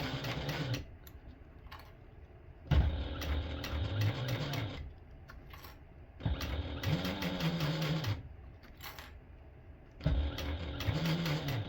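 A sewing machine stitches a small tote bag in three bursts of steady, fast mechanical whirring with short pauses between runs, close and clear with no talking.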